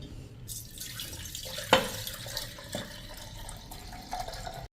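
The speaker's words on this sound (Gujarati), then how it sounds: "તો પહેલાં હું એને ભરવા માટે એક જારમાં નાખી દઉં છું." Amla mixture is poured into a jar, giving a steady liquid trickle and splash that runs throughout, with one brief louder spot partway through and no talking.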